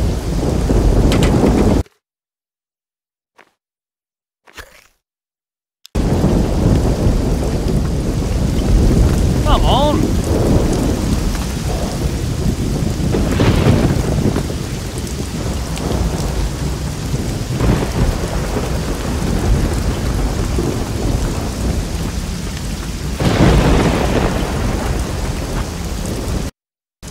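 A thunderstorm in a video game, heavy rain pouring steadily with rumbling thunder rolls, loud and continuous after a short silent gap near the start.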